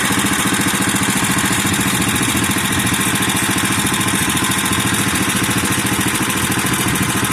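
A Bolens garden tractor engine runs steadily close by, a loud, even, throbbing drone that holds constant as the clutch is let out.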